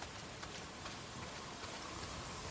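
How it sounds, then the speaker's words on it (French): Steady rain pours down heavily in the open-world game Days Gone, a dense, even hiss of falling water that stays constant throughout with no voices over it. "s'il pleut des cordes"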